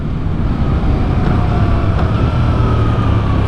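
A Street Fighter-style naked motorcycle is ridden at steady speed, its continuous engine drone and wind rumble close and loud, with a faint rising whine in the background.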